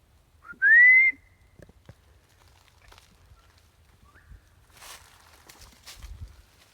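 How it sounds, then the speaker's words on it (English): A single clear, rising whistle sounds in the woods, short and fairly loud, followed by faint rustling and footsteps on the forest floor. "I don't know what that whistle was."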